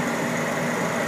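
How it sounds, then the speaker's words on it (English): A Kenworth tractor with a CAT engine and Allison automatic transmission runs with a steady, loud, broadband mechanical drone that holds an even level throughout. "Third tractor is a Kenworth, equipped with a CAT engine"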